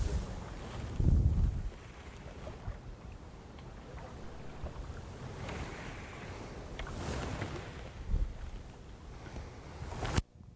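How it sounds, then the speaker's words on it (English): Wind buffeting a bass fishing boat on open Oklahoma water, a steady rushing roar with gusty swells and a few louder thumps of microphone buffeting, no voices. "Knew that wind would catch up with us sooner or later."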